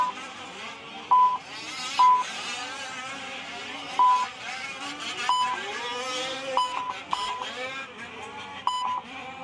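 Fifth-scale RC buggies racing down the straightaway at a dirt track, whining engines rising and falling under a loud race commentator, with repeated short electronic beeps from timing gear.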